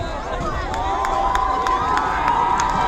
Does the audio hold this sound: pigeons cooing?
no